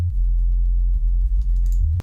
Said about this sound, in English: I have a mix of this sine wave.